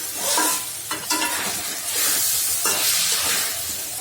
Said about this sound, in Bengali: ভেজে রাখা আলু বটবটিগুলা দিয়ে দিই। নেড়ে ছেড়ে এগুলো একটু কষিয়ে নেব